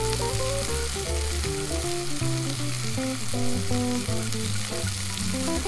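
Seasoned onions fry in a pan over medium-low heat with a loud, steady sizzle and crackle, while a melodic tone plays throughout under it.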